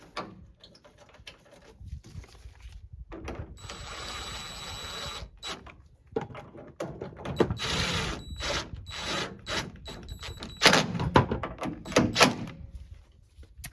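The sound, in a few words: bolts being installed and tightened on Toyota Tundra tailgate hinge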